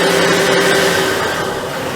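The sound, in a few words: boat diesel engine running with open engine hatch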